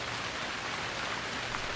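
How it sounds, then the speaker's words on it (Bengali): Rain falling steadily, a soft, even hiss of drops on surfaces with no breaks, fairly quiet and continuous. "খুব বৃষ্টি হচ্ছে"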